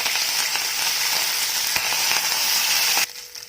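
Curry leaves crackle and sizzle in hot oil with popped mustard seeds and fennel, a loud, dense spatter close by with a few sharp pops, then the sizzle cuts off abruptly near the end; no talking.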